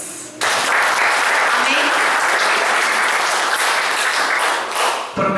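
A church congregation applauding during a sermon, a dense, loud burst of clapping that starts suddenly and continues steadily for about five seconds, with a voice briefly calling out over it.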